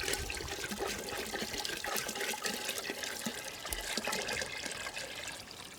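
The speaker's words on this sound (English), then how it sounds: "and pour the water." Very dirty water being poured for purification in Swaziland, carried to a fire and tipped out by several people holding the vessel together: a continuous splashing, gurgling pour, fairly close, with no talk.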